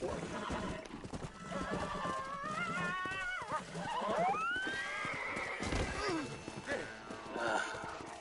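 A horse in the video game Red Dead Redemption whinnies with rising and falling cries while hoofbeats clop along underneath, moderately loud, with other game sounds mixed in.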